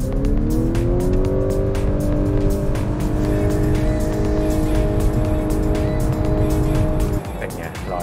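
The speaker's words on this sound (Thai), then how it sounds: "เดี๋ยวเราไปทำ0ถึง100กันดีกว่า" Honda Accord e:HEV hybrid sedan accelerating hard from 0 to 100 km/h with two people aboard: a steady loud engine drone with rising harmonic tones for about seven seconds, then dropping off as it eases.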